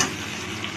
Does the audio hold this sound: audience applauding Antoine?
no